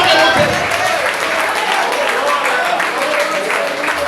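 A church congregation at a doctrine worship service breaks into sustained clapping and cheering, a dense, loud wash of applause that stays fairly even for several seconds with voices mixed in.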